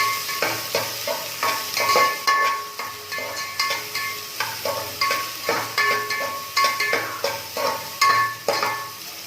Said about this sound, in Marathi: आता हा गुलाबी होईपर्यंत परतून घ्यायचा आपण.